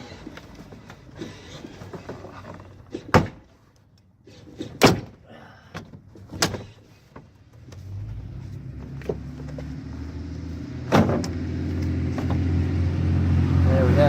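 Sharp plastic cracks and snaps ring out several times as a panel is pried loose, followed by a steady rising rumble.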